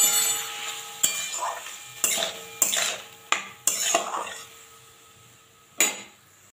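Toor dal with turmeric, salt and spices is stirred in a pan, a metal spatula striking and scraping the vessel in about seven sharp clanks spaced irregularly over several seconds, with a faint sizzle between strokes.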